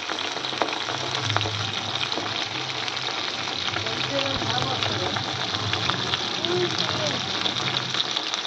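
Chicken pakoras, KFC-style, deep frying in hot oil: a dense, continuous crackling sizzle that stays steady throughout, with a low murmur running faintly underneath.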